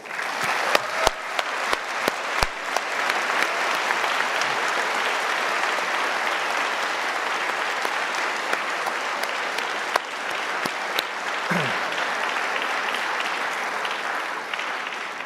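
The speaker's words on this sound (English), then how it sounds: "Graduates, a round of applause, please." A convocation audience applauds the graduates with sustained, dense clapping that swells and stays loud, with a few sharp individual claps standing out near the start.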